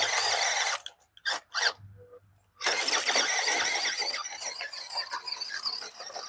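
A Toyota's tires squeal as they lose grip, with a high, sustained screech that breaks off into short bursts, falls quiet briefly, then returns long and loud with engine noise underneath.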